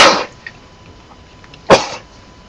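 Two sharp allergy sneezes, one at the start and another a bit over a second later, loud and close, with quiet room tone between them and no speech.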